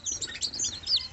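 Newly hatched chicks, one of them dark with black legs, peep in quick high chirps close by, a busy run of calls without talking.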